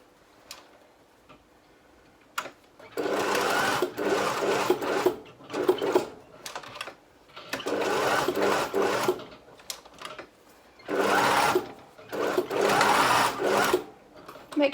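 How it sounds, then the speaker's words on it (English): A sewing machine straight-stitching elastic runs in several short bursts of rapid mechanical whirring and ticking, close and clear, separated by brief pauses. "I'm going to sew down one side, a diagonal up and down the other, again using a straight stitch."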